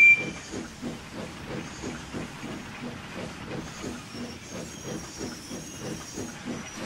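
Steady hissing steam with a rhythmic chuffing pulse from a cartoon steam locomotive letting off steam as it runs, moderately loud and continuous.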